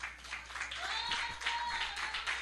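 A church congregation claps together during a worship service, a dense, steady patter of many hands held at moderate distance with no break.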